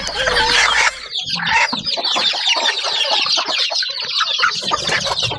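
A hen clucks while laying an egg, loud and close, with busy, continuous clucking and squawks that run through the whole stretch without any talk.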